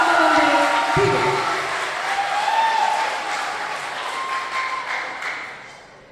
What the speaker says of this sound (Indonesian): kita beri tepuk tangan yang meriah untuk peserta dengan nomor undi 3